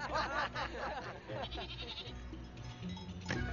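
A herd of goats bleats loudly and repeatedly in a rough, wavering chorus, close and overlapping, with a final bleat near the end.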